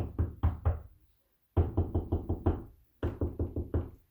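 Three bursts of rapid knuckle knocks on a wall, each a quick series of raps, comparing hollow and solid spots, the later groups sounding slightly different in tone.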